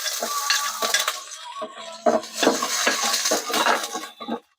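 Mussels being sautéed in a pan for tinola, with a utensil scraping and stirring against the metal in irregular strokes over a continuous close sizzle, no speech.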